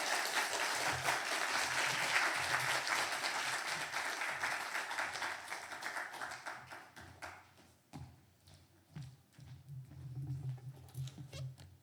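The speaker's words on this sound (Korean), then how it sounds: "우리 선교사님 나오실 때 다시 한번 큰 박수로 환영하겠습니다" A church congregation at a Sunday afternoon service applauds to welcome a missionary, fairly faint clapping that thins out halfway, leaving scattered claps and low murmuring.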